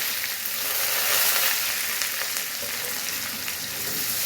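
Garlic, cumin and mustard seeds fry in hot oil for a leafy green vegetable dish, giving a steady, dense sizzle that holds close and fairly loud throughout with no voices.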